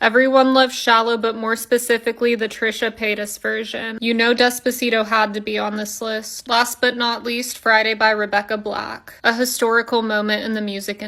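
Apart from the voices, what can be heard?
None of the usual background noises is heard.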